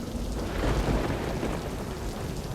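Steady rainfall hisses over Mumbai while a low rumble of thunder swells and fades beneath it, fairly quiet and distant, with no voices.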